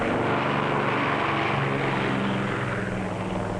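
A propeller-driven airplane flies by with a loud, steady engine drone and whirring propeller, heard from an old 16mm educational film soundtrack, continuous and close with no talk over it.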